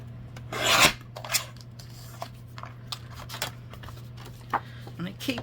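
Paper pieces for a handmade folder being cut off, with a loud rasping cut near the start followed by scattered snips and light scrapes up close, under a steady low hum.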